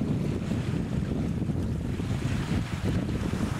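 Steady wind at sea aboard a small catamaran on an ocean crossing, a constant broadband roar with rumbling buffeting on the microphone and the wash of water underneath, no voices.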